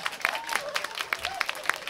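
Scattered, brief hand claps from a small audience at a live concert in a tower venue, a handful of sharp separate claps spaced out over a couple of seconds, with faint instrument tones between them.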